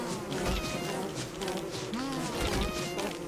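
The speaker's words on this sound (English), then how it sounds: "Okay, now listen, I'll make a deal with you, bees." Bees in the game Don't Starve buzz in a close, wavering drone over a few seconds, with a faint voice or creature sound briefly breaking through.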